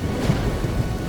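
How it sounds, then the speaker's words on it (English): A storm sound effect of heavy rain with a low rumble of thunder plays as a steady dense wash, with no voice over it. "Then came the rain. Thick, heavy, like knives against their skin."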